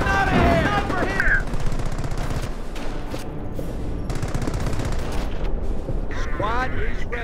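Gunfire and artillery from a Company of Heroes match on Route N13, a dense continuous barrage of shots and blasts with brief whistling shell sounds near the start and end, game unit voice lines mixed in over the combat.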